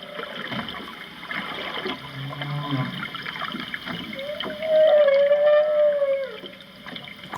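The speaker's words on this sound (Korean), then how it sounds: "수중 청음기로 혹등고래의 소리를 들어보기로 했다" Humpback whale song picked up by an underwater hydrophone: a long rising and falling tonal moan emerges midway over a hissing, watery background, moderately loud and unaccompanied by talk.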